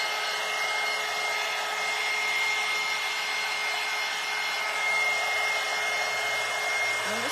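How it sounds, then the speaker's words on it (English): A hair dryer blows steadily on a scrap wood bunny head leaner craft, a continuous close airy whoosh that holds at an even level throughout with no voices. "I'm just gonna hit it with the dryer just a little bit."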